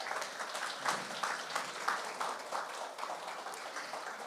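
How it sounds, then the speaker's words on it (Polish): Steady applause from a crowd at a Women's Day concert, a dense patter of clapping that holds at an even level throughout. "Wielkie brawa."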